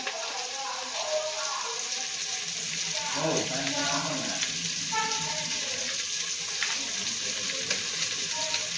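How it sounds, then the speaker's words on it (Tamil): Ingredients sizzling steadily in a pan for paneer pulao, a constant frying hiss with occasional stirring and faint clinks, moderately quiet and close. "இது வதங்கிக்கினே இருக்கட்டும். பாருங்கள், கலராக வதங்குது."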